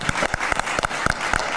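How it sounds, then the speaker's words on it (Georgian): Studio audience at a Georgian television talk show breaks into applause, a steady wash of clapping hands with a few sharper individual claps standing out, loud and close, filling the whole moment. "აპლოდისმენტები უფლისაშვილს."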